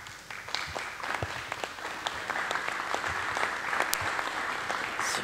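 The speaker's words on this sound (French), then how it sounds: "on se doit de vous applaudir" A room of festival guests applauds competing film directors at a press conference, a steady wash of many hands clapping for several seconds, moderately close, with no talk over it.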